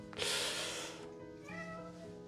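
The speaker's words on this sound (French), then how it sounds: "mon chat qui arrête pas de miauler" A pet cat meows in one drawn-out, fairly loud cry, followed by a softer, shorter second call, with no talking.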